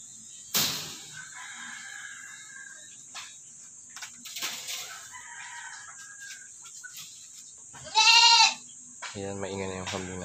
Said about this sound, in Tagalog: Ayan, maingay na yung kambing natin.